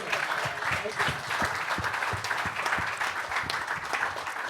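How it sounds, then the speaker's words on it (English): Audience applause at a talk about filming a Moonraker (1979) stunt shot in Rio de Janeiro, a steady wash of many hands clapping at moderate level, with a few sharper individual claps and low murmuring underneath. "Give me a round of applause."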